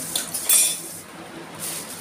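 Metal utensils clink and scrape against a pot as mutton is served out, a few short bright knocks close by amid soft shuffling.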